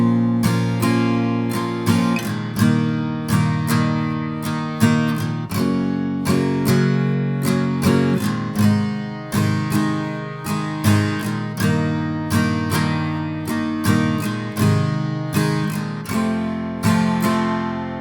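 Guitar strumming the verse chords of a song in a long strumming pattern, steady rhythmic strokes with ringing chords, close and clear, no voices.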